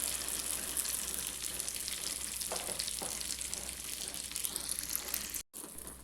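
Paniyaram batter made from idli rice and lentils sizzles in hot oil in a pan, a steady bright crackling fry with a few soft plops as batter is added and a short cut near the end.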